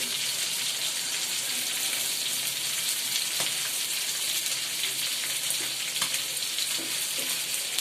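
Chicken frying in a pan shows up as a loud, steady, close sizzle and crackle that runs unbroken the whole time, with a few sharper pops scattered through it.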